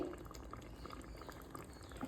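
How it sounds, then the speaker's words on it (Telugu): Mutton curry bubbles quietly in a covered pot after salt is added, releasing its water with a soft, steady simmer and small intermittent pops, faint and close. "సాల్ట్ వేసుకుందాం, మూత పెట్టేసాం. చూసారా, వాటర్ రావడం స్టార్ట్ అయిపోయింది."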